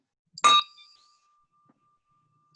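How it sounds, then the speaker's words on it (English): A single bell strikes once with a bright metallic ding, its clear tone ringing on and fading slowly into silence during a civic meeting on social justice in Salem. "Ring the bell."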